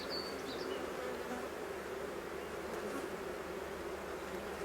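Bees buzzing at an opened beehive while a honey super is added, a dense, steady close-up drone of many insects with no gaps and no talking.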